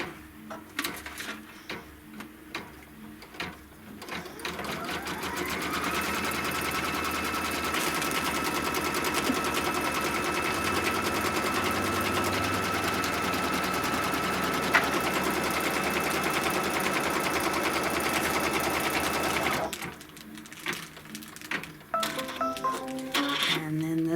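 A sewing machine stitches down a tack on a quilt with white thread, a sustained loud mechanical whir lasting about fifteen seconds, with short stop-start bursts before and after and a voice talking around it.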